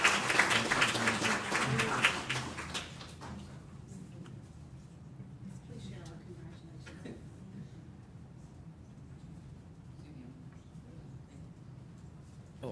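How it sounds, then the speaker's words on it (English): Applause at a school board meeting honoring seniors, a burst of clapping from the room that fades after about three seconds, followed by quieter room noise, scattered sounds and faint talk. "so round of applause."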